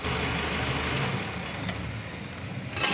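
A Mitsubishi L300 Euro4 engine idles just before being switched off, giving a steady, even mechanical chug and hum that changes abruptly at the very end.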